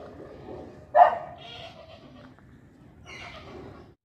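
An animal lets out one sharp bark-like cry nearby, followed by a couple of quieter, drawn-out bleating calls.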